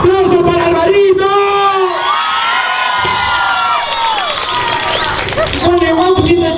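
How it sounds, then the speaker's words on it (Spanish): Loud outdoor street-comedy audience cheers and whoops with children shouting and light clapping, sustained near the listener while a performer's voice rises over the crowd. "¡Aplauso para Alvarito!"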